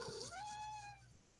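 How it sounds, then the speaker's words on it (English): A cat gives one clear meow that rises and then holds for about a second, faint and a little distant over a low hum. "Oh, I hear a kitty."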